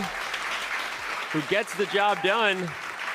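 Dense, continuous applause and cheering from a large hometown crowd at a chess speed championship semifinal in Paris fills the space, with a voice speaking over the clapping midway through.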